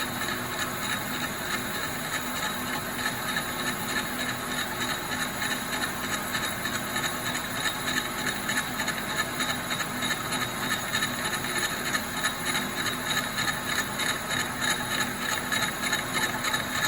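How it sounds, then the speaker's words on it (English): Steady machining hum with a fine, rapid rhythmic chatter of a CNC lathe making an interrupted cut on a 9-5/8 inch diameter steel wheel spacer for a tractor, continuous and close. "So you can hear the interrupted cut. Chuck, chuck, chuck, chuck, chuck."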